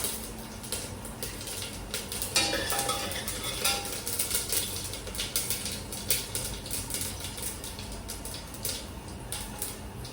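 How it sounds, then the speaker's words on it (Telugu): Tempering spices sizzle and crackle in hot oil in a pan for a Telugu bitter gourd pulusu, with steady frying hiss and metal stirring clinks throughout and no talking. "ఇప్పుడు తాలింపు దినుసులు వేసేద్దాం"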